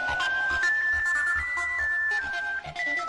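Mobile phone ringtone playing a simple repeating electronic melody, moderately loud and continuous, with faint background sounds beneath it.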